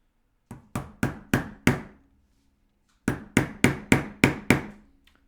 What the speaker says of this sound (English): hammer the stitching iron as far in, the pricking iron as far in as this